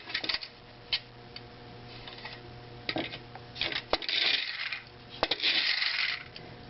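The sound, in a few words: Japanese tin litho friction-driven jalopy toy running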